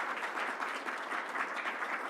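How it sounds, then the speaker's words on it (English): Crowd at a New York COVID-19 briefing gives County Executive Bello a round of applause: continuous, fairly even clapping from a roomful of people, moderately distant and without speech. "let's give a round of applause to our County Executive Bello"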